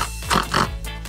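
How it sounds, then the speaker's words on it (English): A pig oinks twice in quick succession, close and clear, with short snorting grunts over a steady low background hum. "This is a pig."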